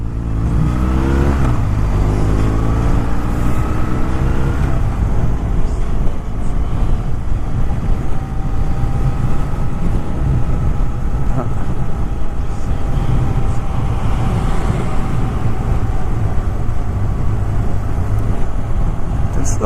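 A car driving through dark, cold early-morning commuter traffic gives a loud, steady engine and road rumble from inside, with a rising whine at the start and a constant drone throughout.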